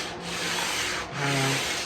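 Sanding block rubbed back and forth along the full length of a wooden guitar fretboard, two long even strokes of coarse scratchy friction, close and steady with no talk.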